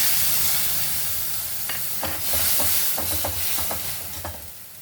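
A paste of ginger, green chili, coriander, cumin and garam masala frying in a pan for chana dal: a steady close hiss and sizzle, broken by a run of soft scraping stirs, with no voices.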